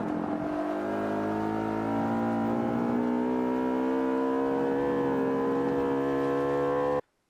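Race car engine in Forza Motorsport 5 revving hard and climbing steadily in pitch under acceleration, a loud continuous whine with rich harmonics that holds for about seven seconds, then cuts off abruptly.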